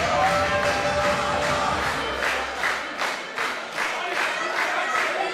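Loud crowd cheering and rhythmic clapping at a tag team wrestling qualifying match, a steady roar with regular pulses of claps throughout.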